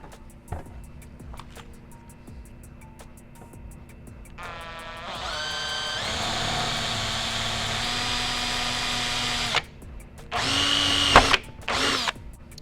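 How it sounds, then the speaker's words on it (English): A power drill with a 3/8 bit whirs steadily, its pitch rising as it bites in, then stops and gives a couple of short final bursts, loud and close, drilling into a Suzuki M109 motorcycle. "we're going to be using a 3/8 size drill"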